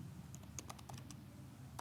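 Quick, light keystrokes on a computer keyboard, a short burst of soft clicks over a steady low hum with no voices.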